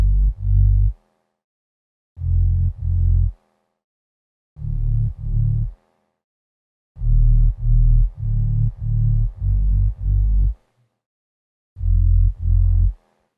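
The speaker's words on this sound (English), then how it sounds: "So that is a bass loop," Afrobeats-style bass loop from the Unison Beatmaker Blueprint pack, deep low notes played in short grouped bursts with silent gaps between phrases, loud and alone with no talking.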